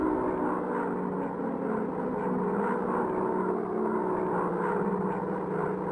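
A steady droning propeller engine hum from a World War II warplane in a dogfight video game, continuous and even, with no speech over it.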